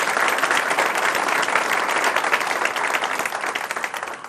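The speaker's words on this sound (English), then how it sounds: "yes, we'll give her a round of applause." A steady, full round of applause fills the room at an announcement event, many hands clapping continuously at even loudness throughout.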